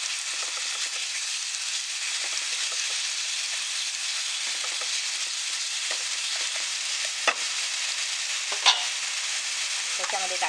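Ginger, garlic and green chili paste for mutton kheema fries in hot oil with a steady, hissing sizzle, and a few soft clicks of stirring break through near the end.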